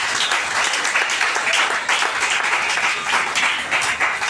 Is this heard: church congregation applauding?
yes